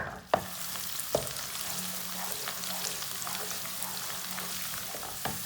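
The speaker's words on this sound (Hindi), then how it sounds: "एक प्याज डाल लेंगे, इसे ब्राउन कर लेंगे" Onion and local garlic browning in oil in a pan while cooking a village-style potato and pea dish, a steady close sizzle with a few sharp clinks of a utensil against the pan.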